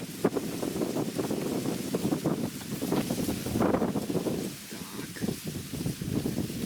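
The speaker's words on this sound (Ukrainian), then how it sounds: "Вітер починає сильніше дуть" Gusty wind buffets the microphone in rough, uneven bursts, with faint water lapping in the background.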